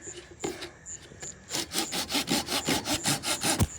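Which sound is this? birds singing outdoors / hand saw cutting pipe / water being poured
hand saw cutting pipe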